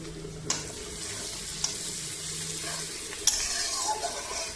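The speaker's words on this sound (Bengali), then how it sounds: "কড়াইয়ে তেল পেঁয়াজ দিয়ে দিয়েছি।" Onions fry in hot oil in a wok with an even, moderate sizzle. A few sharp utensil clinks from stirring cut through now and then.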